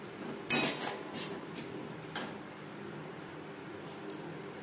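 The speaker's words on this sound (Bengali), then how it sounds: "2-3 মিনিট হাই টু মিডিয়াম ফ্লেমে নাড়াচাড়া করে নেওয়ার পর দিয়ে দেবো জল" Katla fish curry masala being stirred in a pan over high to medium flame, a few clanks and scrapes of a spatula against metal over a faint background hiss, the strokes spaced irregularly.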